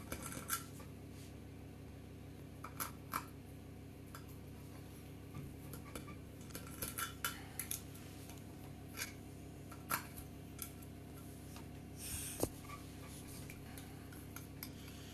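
A knife and cutlery tap and scrape against a plate while slicing into a millas cake, giving faint, scattered clicks and clinks over a quiet kitchen background.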